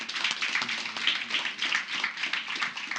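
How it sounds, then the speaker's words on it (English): A crowd at an open mic night of rap, comedy and poetry applauds a performer with an even round of clapping, dense and continuous for a few seconds at moderate volume. "One more round of applause for my man."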